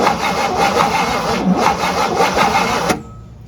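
A 1958 Super's long-abandoned engine, freshly filled with break-in oil and fed fuel down the carburetor, cranks and roars loudly and steadily up close for about three seconds, then cuts off abruptly to quiet.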